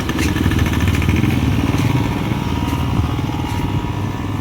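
A 50cc motorcycle engine runs close and loud with a steady rattling putter and some clatter throughout, no voices heard.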